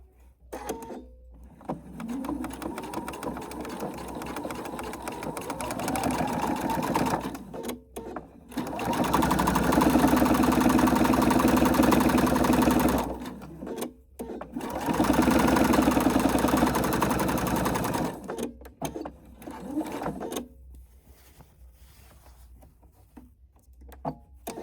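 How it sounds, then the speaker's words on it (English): A sewing machine top stitches the sewn edges of a small fold-and-store piece, running in several long, loud bursts of steady whirring separated by short pauses, close up, with no talk. "I'm going to top stitch the edges that I've sewn"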